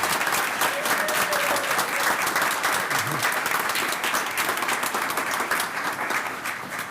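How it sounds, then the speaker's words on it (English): Sustained round of applause from a council meeting audience honoring graduates, dense steady clapping throughout that eases slightly near the end. "Let's all give all of our graduates another round of applause."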